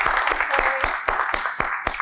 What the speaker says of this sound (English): Today, I feel like it's a day that we need to give Janessa an applause.